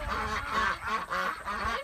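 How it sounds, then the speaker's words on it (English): A flock of 18 ducks quacks in several rapid, nasal bursts close by, with overlapping calls and no talking. "So we have 18 ducks now"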